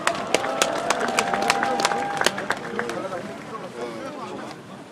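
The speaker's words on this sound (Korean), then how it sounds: "일단 박수로 모시겠습니다." Audience applause at a Gwangju citizens' emergency rally, with the crowd clapping briskly through a few seconds under loud shouts and voices, the clapping thinning out toward the end.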